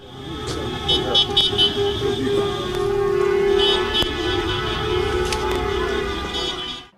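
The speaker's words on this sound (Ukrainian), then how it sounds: "на автоколону вже чекає заступник голови Рівненської ОДА" Car horns toot repeatedly from a motorcade with flags over steady traffic noise, with short bursts and one longer blast amid a busy, noisy street scene in Rivne, Ukraine.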